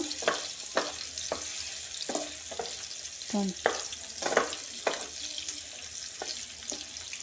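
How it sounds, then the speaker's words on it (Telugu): Paneer roasts lightly in a pan, a soft background sizzle broken by repeated scraping and stirring clatters from a utensil, close and intermittent with no talking. "ఇవి మనం మాడిపోకూడదు, లైట్గా రోస్ట్ అవ్వాలన్నమాట."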